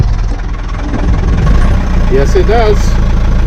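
A sailboat's engine runs at a steady rumbling idle close by, loud and continuous, while a person speaks briefly over it.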